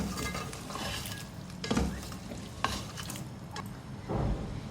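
Red chilies and garlic-ginger paste are stirred in a pot with a soft sizzle underneath, a spoon scraping and clinking against the metal in a few distinct strokes, fairly quiet and close.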